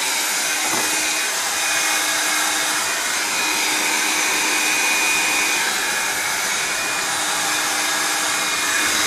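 A hot air gun blows steadily on a silicone coolant hose during a BMW E39 electric conversion, a constant loud whooshing hum that holds for the whole stretch with no voices.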